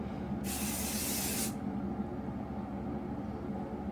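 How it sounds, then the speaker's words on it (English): An airbrush sprays makeup onto a face from about eight inches away, one steady hissing burst lasting about a second over faint room hum, then quiet. "you're just gonna close your eyes and spray in like an S shape"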